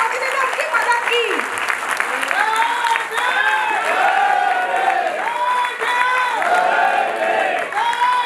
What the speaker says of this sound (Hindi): प्लीज एक बार आप खड़े हो जाइए और आपके लिए जोरदार तालियां